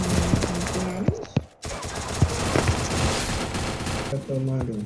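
Rapid automatic gunfire in the mobile battle game Free Fire, clustered shots over game music and effects, with someone speaking excitedly over the action.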